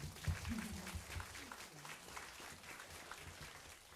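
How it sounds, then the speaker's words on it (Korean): Audience applause at a job-recruitment talk show, a faint spatter of clapping with a few brief vocal sounds near the start that fades out over a few seconds. "네, 큰 박수 부탁드립니다."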